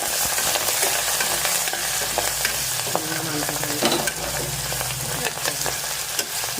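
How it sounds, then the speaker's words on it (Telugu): Onions, curry leaves and ginger-garlic paste stir-frying for boti curry, a steady loud sizzle with scraping spatula strokes through the pan, no voices. "ఉల్లిపాయలు వేగిన తర్వాత కరివేపాకు అల్లం పేస్ట్ అల్లం వెల్లుల్లి పేస్ట్ వేసి ఇలా కలుపుకోవాలి"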